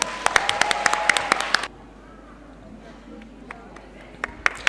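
Crisp, scattered handclaps ring out at a school debate award ceremony, a loud cluster of sharp claps that cuts off abruptly, leaving a quiet room with a few faint claps returning at the end.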